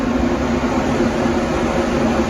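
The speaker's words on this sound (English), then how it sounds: "then we're gonna turn on the air conditioner and get some white noise from this thing too" A room air conditioner running, giving a steady, even broadband hiss of white noise up close with no variation and no talk.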